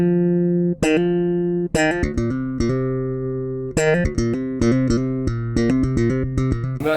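A five-string bass guitar with EMG 40 DC active pickups and an EMG preamp plays a bright, clear run of plucked notes and sustained tones, close and alone.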